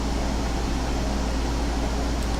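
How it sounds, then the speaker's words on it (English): A loud air conditioner and an open-sided computer's fan whir together as a steady, even broadband hum with a low drone, continuous throughout with no talk. "if you hear a really loud fan in the background, that'll probably be the air conditioner"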